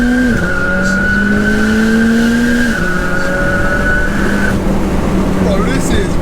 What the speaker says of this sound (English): that exhaust, the way it's screaming